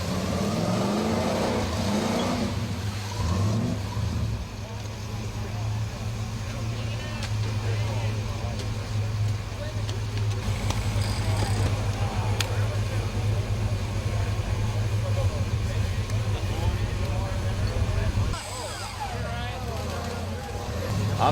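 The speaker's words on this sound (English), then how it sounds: "TJ Florence is up next with his CJ7, a 350 powered machine with 330 horsepower and 425 pound-feet of torque." A Jeep CJ7 with a 350 V8 making 330 horsepower runs loud and steady at an off-road truck challenge, its engine droning throughout with a few surges in revs.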